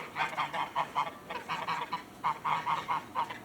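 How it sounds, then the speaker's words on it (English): A flock of geese honks repeatedly in a steady, rhythmic run of calls at moderate distance, the honks coming in quick bursts with a brief lull midway and no voices. "the geese follow me everywhere"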